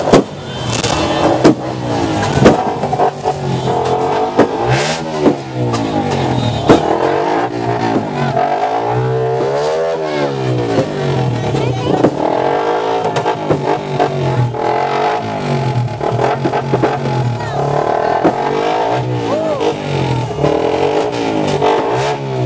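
Motorcycle engines race and rev at night during New Year: loud, continuous engine roar with repeated rising and falling throttle sweeps, close by and sustained throughout, no talking.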